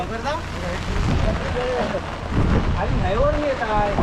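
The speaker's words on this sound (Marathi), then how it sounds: "आणि बघा पाऊस पण आलेला एकदम टायमावरती" Rain pours down in a dense, steady roar with low rumbling underneath during a Ganesh idol's arrival procession in a Konkan village, while voices talk and call out over it.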